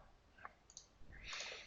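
Soft mouse clicks on a software button in a content management program, a few faint, sharp taps with a brief rustle of handling noise following them in a quiet setting.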